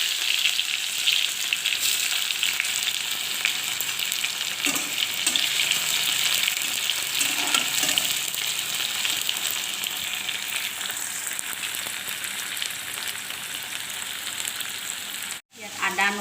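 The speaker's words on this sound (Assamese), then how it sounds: "তেলটো গৰম হৈছে, এতিয়া পিঁয়াজ দিম।" Onions frying in hot sugared oil, a continuous hiss and crackle close by with occasional soft stirring scrapes, ending in a brief cutoff.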